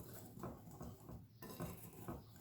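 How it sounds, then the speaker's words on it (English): A whisk beats eggless cake batter in a bowl with soft rhythmic clinks and scrapes against the sides, quiet and close, several strokes in a steady pattern. "Now use a whisk to mix this."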